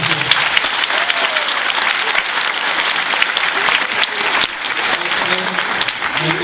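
Theatre audience in Kırşehir applauding after a stage play performance, a steady, dense wash of many hands clapping that fills the whole stretch at even loudness with no break.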